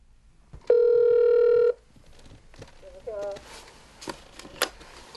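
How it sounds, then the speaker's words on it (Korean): A telephone call from an elderly woman in a Korean village: a single loud, steady ringback tone lasting about a second, followed by faint clicks and handling noises close to the handset. "또다시 전화를 걸어봅니다"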